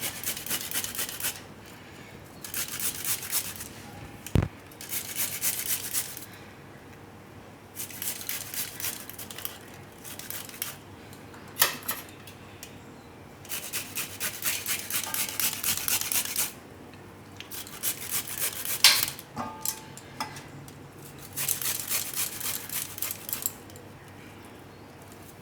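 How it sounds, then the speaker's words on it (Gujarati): Peeled fresh ginger being grated in a home kitchen, a steady raspy scraping in repeated bursts of strokes with short pauses between, close and fairly loud, with no talking. "તો આમાં આપણે છીણી નાખીશું."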